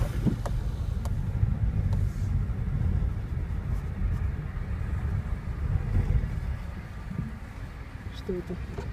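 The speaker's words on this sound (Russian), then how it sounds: "что это? Трактор." A large tractor engine rumbles nearby on a road as it passes, a steady heavy low drone throughout with wind buffeting, while people talk over it.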